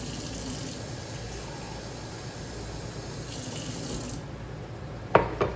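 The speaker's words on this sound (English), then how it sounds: "Yeah, I'm gonna add another cup of water." A cup of tap water runs in a steady, soft rush for several seconds in a home kitchen and stops with a couple of clinks at the end.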